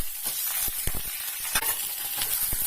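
Dried red chilies and curry leaves frying in hot oil for a potato curd curry, a steady close sizzle with a few sharp crackles and pops throughout.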